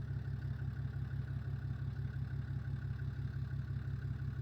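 Farm tractor hitched to a grain drill idles steadily at night, a low, even diesel rumble with a regular throbbing pulse and no speech.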